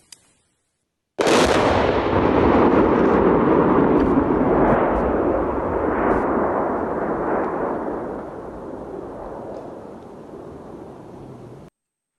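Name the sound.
controlled detonation of a missile by bomb disposal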